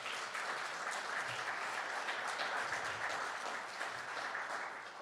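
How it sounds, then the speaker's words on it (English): A crowd at a Haitian Independence Day event gives a speaker a round of applause, steady dense clapping that holds evenly, then softens slightly at the end, heard from a distance. "Give him another loving round of applause."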